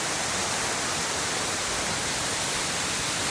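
Karacaören waterfall at Salıpazarı in Samsun roars as a dense, steady broadband rush of falling water that stays loud and unbroken throughout.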